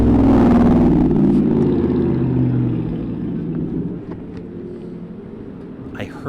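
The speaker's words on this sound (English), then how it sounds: "I heard his muscle car coming down the block well before I saw it." A muscle car comes down a city block with a loud, deep engine rumble that starts strong and slowly eases off, steady and throaty with no voices over it.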